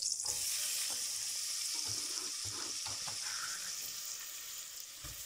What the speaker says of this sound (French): Et là, on va commencer par ajouter en premier les oignons.